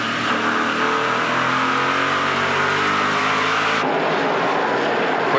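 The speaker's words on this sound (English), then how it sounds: "Quick ride on board the Castrol Edge Dodge of DJ Kennington" Roaring V8 engine heard onboard a Castrol Edge Dodge stock car racing in the 2019 NASCAR Pinty's Series Luxxur 300: a loud, steady, droning engine note, pitch shifting slightly, then an abrupt cut to a duller, rougher roar.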